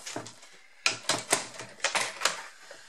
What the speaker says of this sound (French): Je vais utiliser mon massico.